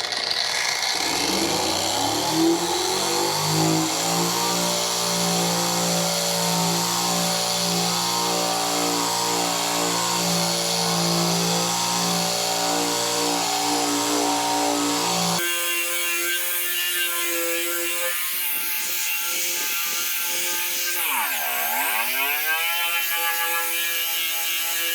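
A Harbor Freight metal conditioning tool fitted with 240 grit runs loud and steady, its whine climbing as it spins up and then shifting pitch partway through, with no voices present.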